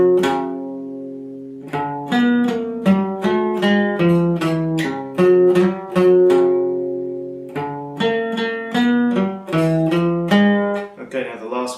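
A plucked acoustic guitar riff, clear and close, with quick repeated notes and ringing chords in a steady rhythm, played alone with no voices.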